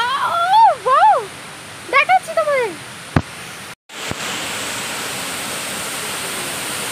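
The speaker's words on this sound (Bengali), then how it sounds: "এই যে ঝর্ণার আওয়াজ" Bamni waterfall in a forested hill area of Purulia roars as a loud, constant wash of water noise, with a person talking briefly over it at the start.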